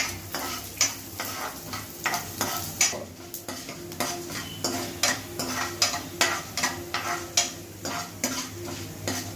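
Urad dal frying in oil in a pan for coriander chutney, with steady sizzling under repeated clinks and scrapes of a spoon stirring against the metal, close and fairly loud throughout.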